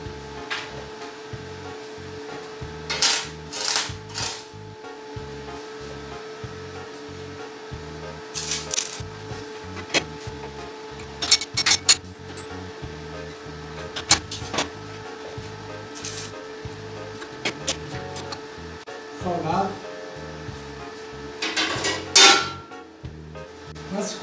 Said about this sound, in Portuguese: Pronto, agora vamos soldar.